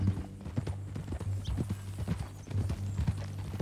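Horse hooves clip-clop steadily at a walking pace in Red Dead Redemption 2, a close, even rhythm of hoof falls on a low continuous rumble, with no talk over them.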